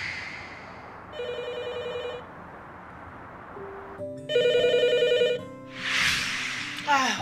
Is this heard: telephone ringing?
yes